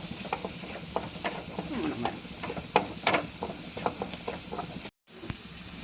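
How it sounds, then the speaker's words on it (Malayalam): Chili and pepper powder being stirred in a frying pan for pasta, with a soft sizzle under irregular scraping strokes of a spoon, close-up with no talking and a brief cut near the end. "ഇതെല്ലാം കൂടെ ഇട്ട് ഒന്ന് ഇളക്കി കൊടുക്കുക"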